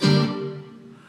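A single guitar upstroke, struck with the strings muted, giving a short bright strum that fades within a second.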